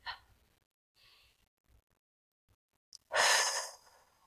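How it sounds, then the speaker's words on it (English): A slow, deep breath drawn in and let out during a calm grounding exercise; a faint soft inhale early on, then a loud, close breathy exhale near the end, with quiet pauses between and no talking. "let's take a deep, grounding breath"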